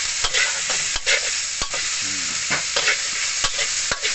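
Garlic and pork sizzle steadily in a hot pan while a utensil scrapes and clacks against the metal in irregular stirring strokes.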